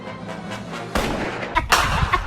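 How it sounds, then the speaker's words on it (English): A single sharp gunshot in an Animaniacs cartoon cracks out loud and close about a second in, followed by a second blast and echoing rumble after a quiet stretch of soft background music. "Oh, they shoot it!"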